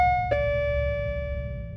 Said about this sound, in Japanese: と呼び鈴を鳴らす。